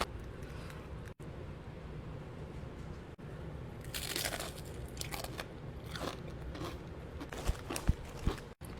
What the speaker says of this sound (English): Got these Stacy's pita chips.